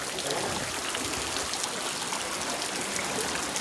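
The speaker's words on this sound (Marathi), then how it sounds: "इथं बघा किती पाणी किती पाण्याची चालली बघा." Floodwater rushing through a village, a constant broad wash of flowing water, steady and fairly close with no pauses.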